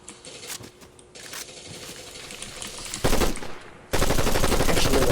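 Video game gunfire crackles in rapid bursts, faint at first and then much louder, automatic-style shots rattling in quick succession near the end.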